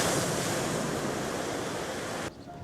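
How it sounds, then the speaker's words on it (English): Ocean waves break onto the shore below a coastal lookout in Australia, a broad, loud roaring wash of surf that holds steady and then cuts off abruptly near the end, with no voices. "look at the waves coming over down there"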